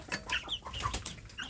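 Free-range native village chickens (ayam kampung) cluck softly while eating, with quick, quiet, irregular clucks close by and no talk.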